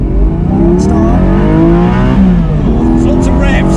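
A Porsche Boxster Spyder engine revs hard and climbs in pitch, loud and close, with rising harmonic sweeps as it launches and pulls away.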